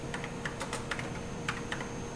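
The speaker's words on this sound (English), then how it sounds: "I will type the same in the monitor, so we can see that I'll be just typing exactly the same thing." Quiet computer keyboard typing a program, a run of irregular light key clicks at a steady pace over a faint room hum, with no talk.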